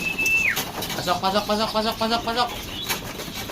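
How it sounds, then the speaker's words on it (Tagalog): Pigeons flap their wings in quick bursts and coo softly as they crowd into their loft, heard up close while someone speaks briefly. "Ayan na yung mga ibon natin."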